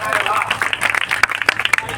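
An audience at a Hindi kavi sammelan poetry recital in Mohammadi claps in a dense burst of rapid applause, with voices and crowd murmur mixed in.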